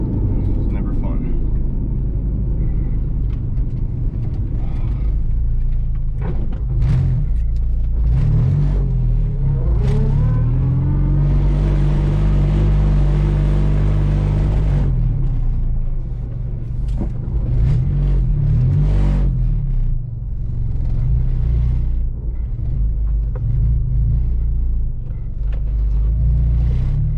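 Honda Integra with a B20 engine swap idling and revving in a driveway, a steady low rumble with several rising revs, close and loud, with people talking over it.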